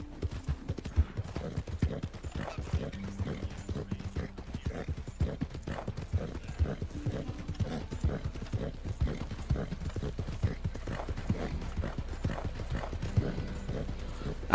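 Horse hooves clip-clopping steadily in Red Dead Redemption 2, a continuous even gait at a walk or trot, close and clear with faint mechanical game ambience and no talk.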